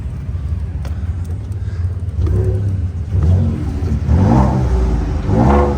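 A 2017 Ford F-150 Platinum EcoBoost with its exhaust in rumble mode revs up close, a low steady idle rumble swelling into two loud rising revs toward the end.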